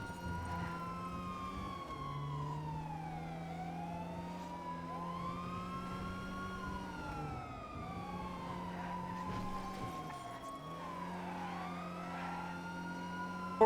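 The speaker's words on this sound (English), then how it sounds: "now I hear 2 sirens?" Police sirens in a video game wail continuously for the whole stretch, two overlapping sweeping tones rising and falling over a steady low engine drone, loud and close with no talk.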